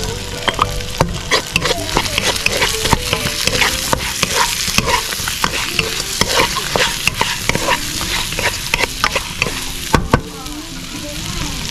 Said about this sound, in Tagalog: Lagyan natin ng bawang guys.